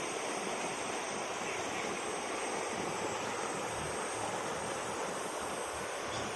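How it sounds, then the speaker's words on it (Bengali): Constant roaring rush of fast-moving floodwater after a night of rain, loud and unbroken, with a low rumbling undertone and no voices. "প্রচুর পানি নামছে"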